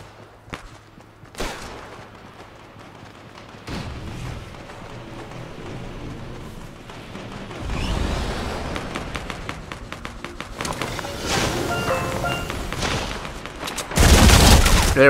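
Bursts of SMG fire and pistol shots ring out in Fortnite Season 8, a rapid fusillade that builds from sparse cracks to dense, loud volleys near the end, with some faint game noise between.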